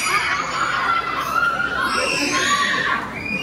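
A crowd at a fiesta pageant for a gay beauty contest cheers and shouts, a dense, loud mix of high screams, whoops and laughter that stays steady throughout.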